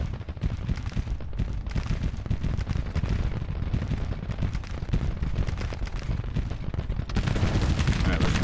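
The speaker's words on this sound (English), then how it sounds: "Ledbetter, start firing on these guys." Dense gunfire from troops in the Grand Tactician Civil War strategy game, a continuous crackling rattle of many muskets that swells louder near the end.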